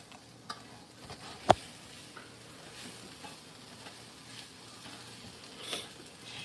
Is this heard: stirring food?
yes